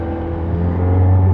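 A car drives along in the morning with a steady, loud engine rumble and a low whir that swells slightly as it picks up speed, heard from inside the vehicle.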